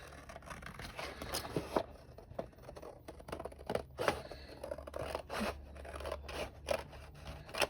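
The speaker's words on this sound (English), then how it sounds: "let me just use the scissors instead of the trimmer" Scissors snip through paper in a series of crisp, close cuts at an uneven pace, with light rustling and scraping between snips.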